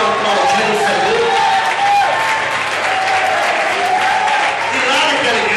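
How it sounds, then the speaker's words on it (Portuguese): A church congregation applauds loudly and continuously, with voices mixed in among the clapping throughout. "Vamos receber, aplaudir o Senhor."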